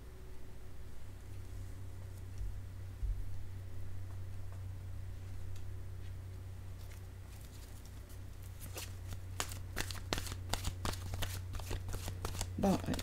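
Oracle cards being shuffled by hand, a close, crisp riffling and flicking that grows busier toward the end, with a voice talking quietly alongside.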